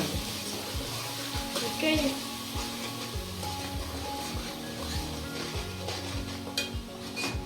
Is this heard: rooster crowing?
no